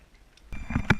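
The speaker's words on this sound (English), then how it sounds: "What you're hearing is air blowing through the toilet." Compressed air from an air compressor blowing through a toilet's water line, a short rush of hiss and sputtering bursts that starts abruptly partway through and builds to a louder gurgling spurt near the end, with no voices.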